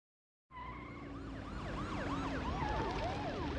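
Police car sirens in the Parasite Eve video game start suddenly and wail continuously, several overlapping sweeping tones layered over each other at moderate volume.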